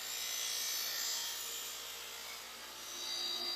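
A buffing wheel polishes a vintage aluminum small-block Chevy engine part, a steady broadband whirring rub that holds loud and even throughout, with no talk.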